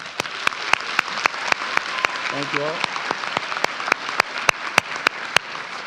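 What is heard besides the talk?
graduation audience applauding school staff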